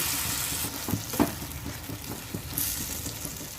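Curry frying in a pan with garlic paste, a steady broadband sizzle with a few soft stirring knocks, close and moderately loud, no voices.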